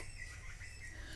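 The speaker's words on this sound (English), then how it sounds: "can you hear the birds singing outside?" Birds call and squawk outdoors, heard faintly at a distance through a window over a low, steady background hum.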